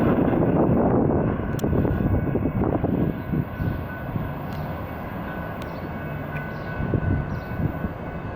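A BNSF freight train at Flagstaff rolls around a curve with a loud, broad rumble and clatter that slowly fades as it moves away, with a few faint high squeals from the wheels.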